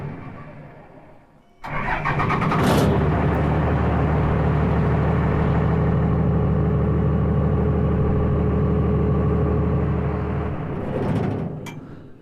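A Cummins diesel engine in a car is started with a push button, catching abruptly and settling into a loud, steady rumbling idle for several seconds before shutting off and fading.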